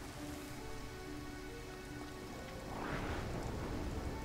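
Rain falls in the video game Xenoblade Chronicles 3 as a continuous close hiss of drops, swelling louder and heavier after the midpoint, with no one talking.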